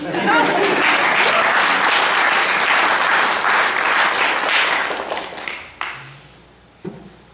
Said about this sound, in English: You don't have to clap again, you already clapped.